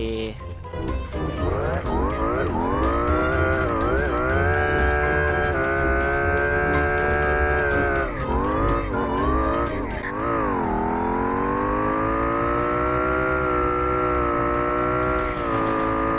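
A car in the video game Free Fire drives with a loud, continuous engine whine that rises and dips as it revs, holding steady throughout.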